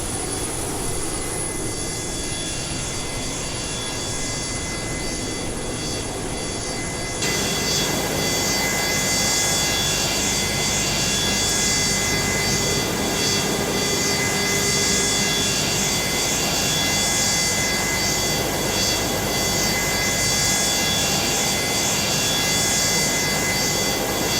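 Boeing 727-200F freighter jet engines in Microsoft Flight Simulator roar as a continuous broadband rumble and whine, jumping sharply louder partway through and then holding steady and loud with no talk.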